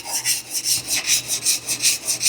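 Steel chisel honed on a wet sharpening stone: steady rhythmic rasping strokes back and forth, about five per second cycle, close and even with no talk.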